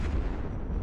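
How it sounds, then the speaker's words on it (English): Loud, dense low-frequency rumble of a ship exploding in the space game Eve Echoes, a sustained boom filling the whole moment without talk. "Boom, big explosions."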